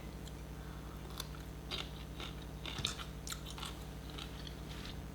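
Fermented cauliflower is chewed up close in quiet, crunchy bites, a soft crackling run of crunches over a low steady hum.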